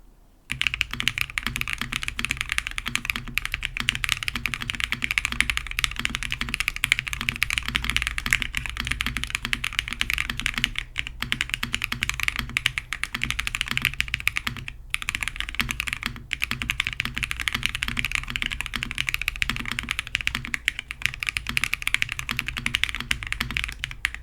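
Steady, fast typing on a mechanical keyboard fitted with Tecsee tactile switches produces a dense stream of close clacks with a few brief pauses.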